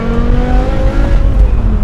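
A manual BMW E60 M5 with its V10 engine being driven, giving a steady, loud engine drone with rising harmonic tones heard from inside the car, with no talking.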